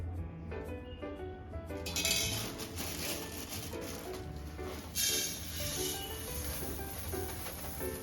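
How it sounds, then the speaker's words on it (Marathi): Coriander seeds dry roasting in a pan for a Maharashtrian kala masala make faint rattles, light clinks and scrapes. The sounds come in quick bursts with a soft background hiss. "आता पहिले मी धणे भाजून घेते"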